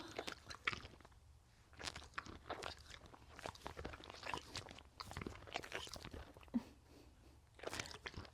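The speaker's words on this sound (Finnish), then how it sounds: "Me kuunnellaan, kun hän maiskuttaa." A horse at a stable chews and smacks its lips up close, a steady run of crisp crunching bites with wet smacks and no talking.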